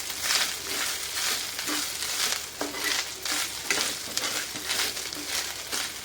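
Grated fresh coconut and cashews roasting together in a pan for mango rice, a continuous crackling sizzle broken by repeated scraping stirs, close up and without any voices.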